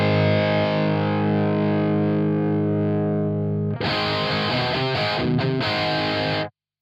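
Distorted electric guitar played through a load box into a cab impulse-response plugin with a ribbon 160 mic model: a sustained ringing chord decaying, then a burst of choppy strummed chords cut off abruptly.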